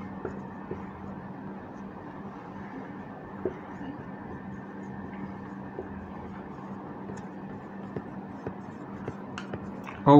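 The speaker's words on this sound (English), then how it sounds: "I'll just write it over here." Pen or marker writing on a board in a classroom lecture on biotechnology, faint continuous scratchy strokes with occasional small taps, quiet and close with a low background hum.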